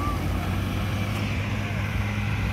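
A tractor engine roars under heavy load as it hauls a small fishing boat with a broken propeller up a slope, a steady low rumble running throughout. Someone talks over the engine noise.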